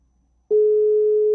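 A steady electronic telephone tone rings out loud and close as a call is placed, starting abruptly and holding unbroken for nearly a second, alone with no talk.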